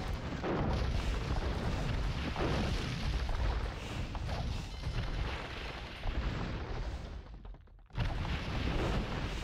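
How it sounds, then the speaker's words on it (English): Cannon galleons firing on buildings in Age of Empires II, a dense continuous rumble of overlapping booms and crashes that briefly cuts out before resuming at full loudness. "Got so many cannon galleons."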